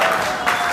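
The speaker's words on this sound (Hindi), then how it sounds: "जबरदस्त तालियां होनी चाहिए।" Brief, loud burst of dense applause from an audience at a network marketing meeting, steady clapping throughout.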